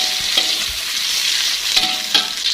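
Purple eggplant frying in cooked spice paste, a steady close sizzle with occasional clacks of stirring, no voices.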